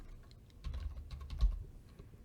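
A password is typed on a computer keyboard, a short run of quiet, close key clicks in irregular rhythm.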